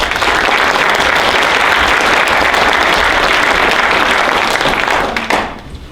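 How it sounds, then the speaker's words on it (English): A lecture audience applauds loudly and continuously, dense clapping that fills the room for several seconds before tapering off abruptly near the end. "I like it when you applaud before I go."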